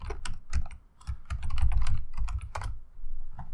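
Rapid keystrokes clatter on a computer keyboard while a group name is typed in design software, a close, uneven burst of clicks with brief pauses and no voices.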